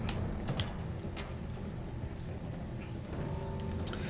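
Steady rain falls in the Silent Hill 2 Remake streets at night, a soft continuous patter with faint ticking drops, quiet and even throughout.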